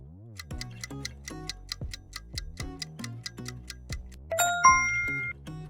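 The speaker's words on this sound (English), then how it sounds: "The clock's ticking." Steady clock ticks in an even rhythm beneath light musical tones, closing with a brighter chime-like swell; no talking.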